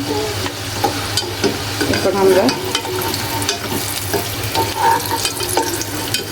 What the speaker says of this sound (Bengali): এখন সবগুলো ডোনাট ভাজা হয়ে গেছে